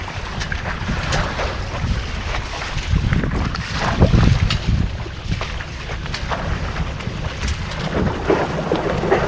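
Wind blows steadily at sea aboard a sailing boat on choppy water with white caps, a loud continuous rush and buffeting against the microphone with splashing water beneath, no voices.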